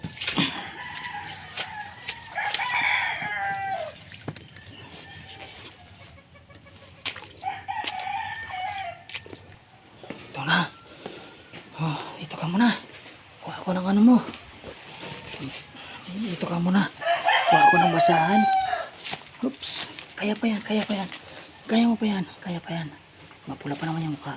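Chickens in a rural yard during typhoon season: a rooster crows and clucks amid insect chirping, with someone talking over much of it.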